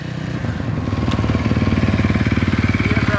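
A KTM 450 dirt bike engine revs loud and close, a rough throbbing pulse that builds and stays steady at high revs at a dealership, with no speech over it.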